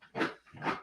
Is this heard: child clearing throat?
no